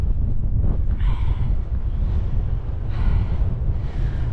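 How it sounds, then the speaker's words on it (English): Strong wind buffets the microphone on an exposed hill ridge in the Howgill Fells near Sedbergh, a loud continuous roar rising and falling in gusts, with no talking. "Back in the wind."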